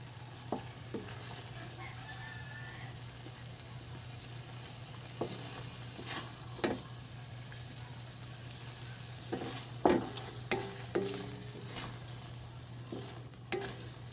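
A sardine omelette sizzles steadily in a frying pan. The sizzle is soft and constant, broken by occasional scrapes and clinks of a utensil stirring, and no one speaks.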